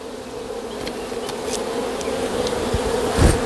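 A steady, close drone of buzzing honeybees during a hive removal, with a few individual insects flying past the microphone and a soft thump near the end.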